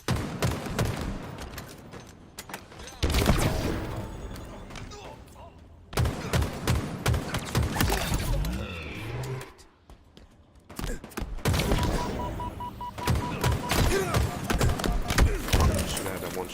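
Bursts of gunfire in a first-person shooter game come in several loud clusters separated by short lulls, with sharp repeated shots and fainter background game sounds.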